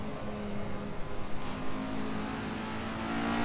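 An Alfa Romeo Giulia GTA race car engine drones steadily in Assetto Corsa, holding a mid-pitched whine with a brief rev swell partway through, heard alone without talk.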